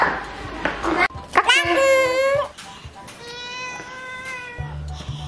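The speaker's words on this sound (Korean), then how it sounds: "제나야, 아야, 네, 야옹이 예쁘다 해야지." Cat meowing up close, two drawn-out, wavering meows in the middle of the clip, surrounded by a young child and an adult talking at home.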